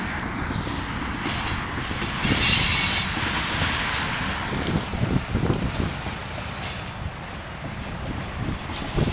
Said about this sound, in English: this train's just going really slow